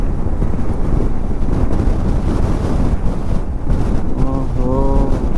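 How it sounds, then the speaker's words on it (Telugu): Strong mountain wind in Ladakh buffets the microphone with a loud, continuous low roar, and a person's voice comes in faintly near the end. "డేంజర్గా గాలి వస్తుంది"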